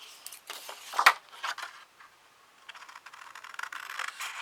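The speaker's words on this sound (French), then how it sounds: "Bon là je prends les gros ciseaux." Large scissors cutting paper in a quiet room, a series of crisp, close snips and rustles with one louder metallic clack, irregular and faint.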